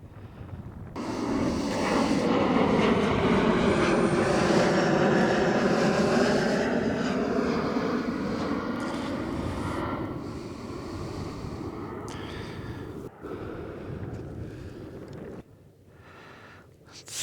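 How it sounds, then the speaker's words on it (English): A Delta Boeing 757-200 arriving from New York lands at Denver International Airport, its engine roar swelling loud from about a second in, holding as a broad rushing drone, then fading away near the end. "There it is, landing from New York, Delta 757-200."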